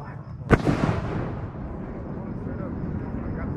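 A single sharp blast from a mortar or artillery piece at an army fire exercise, close and loud, followed by a long rumbling echo that slowly fades under steady background noise.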